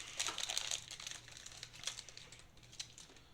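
Boglins trading card packs being ripped open and handled, giving quiet crinkly foil and paper crackles in short bursts near the start, then fading to sparse faint rustles.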